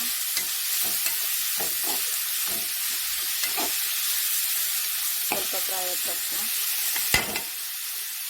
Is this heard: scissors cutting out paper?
no